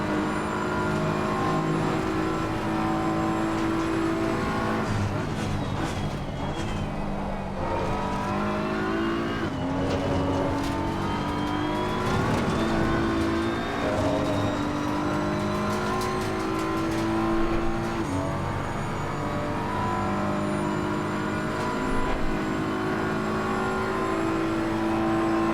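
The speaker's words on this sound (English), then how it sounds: "we are driving a BMW M4 GT3 over here." A BMW M4 GT3 race car in the racing game Assetto Corsa Competizione, its engine droning steadily and rising and falling through gear changes for the whole stretch, with no talk.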